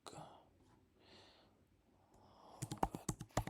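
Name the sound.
typing on a computer keyboard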